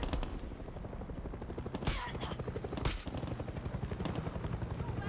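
Helicopter in the video game Far Cry 6, a steady rotor-like rumble running throughout, broken by bursts of gunfire and sharp explosions.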